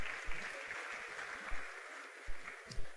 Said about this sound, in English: please let's give a round of applause to him